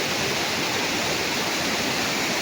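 Monsoon waterfall in the Konkan hills near Malvan, Sindhudurg, a dense, unbroken roar of falling water, loud and close throughout with no voices.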